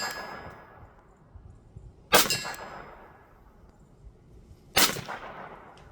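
Two loud, sharp metallic clangs from a Sig P322 .22LR pistol's rounds striking a steel target at 25 yards, spaced a few seconds apart, each ringing out and fading over a quiet background.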